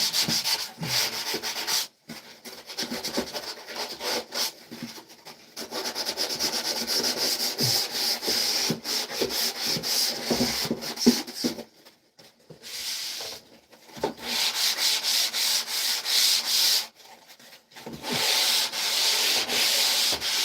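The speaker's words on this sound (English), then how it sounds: "You just chip it out with a knife and then sand it." Steady scratchy rubbing of hand sanding drywall joint compound, in long continuous strokes with brief pauses between, close and fairly loud.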